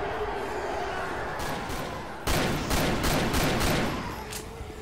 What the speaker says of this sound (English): Just keep shooting.